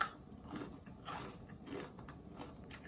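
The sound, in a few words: biting crunchy banana flower vada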